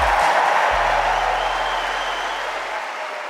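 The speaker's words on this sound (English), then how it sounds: "how about a huge round of applause for Rafa Nadal?" A large Wimbledon evening crowd gives Rafa Nadal a big, dense round of applause, a sustained wash of clapping that fades slightly toward the end, with a low hum underneath.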